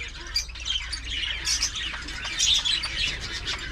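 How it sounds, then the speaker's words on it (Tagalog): Java sparrows in an aviary, a steady stream of small high chirps and tweets, fairly close, with several birds calling over one another and no voices. "Yung mga ibon natin dito, yung Java."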